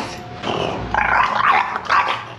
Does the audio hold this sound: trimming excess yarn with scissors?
no